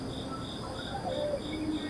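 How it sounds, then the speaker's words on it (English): Crickets chirp in Japan in a steady, faint, evenly pulsed trill, with a soft broadband background underneath. "Crickets."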